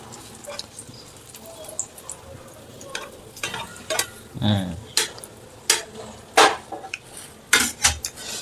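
An egg being beaten for an omelette, scattered clinks and scrapes of a utensil against a bowl or pan, irregular and fairly close, over a quiet kitchen background with a faint sizzle.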